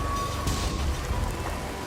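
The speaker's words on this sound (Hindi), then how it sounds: "ये बारिश तो रुकने का नाम ही नहीं ले रही है।" Steady rain falling at night on a deserted village road, a continuous soft patter with low rumble, fairly close and unbroken, with no voices present.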